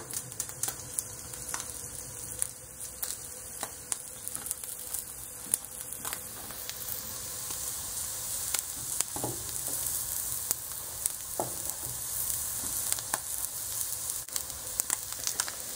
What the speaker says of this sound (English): I sliced it and I sprinkled a little oil on it, and I'm going to put it on a hot pan.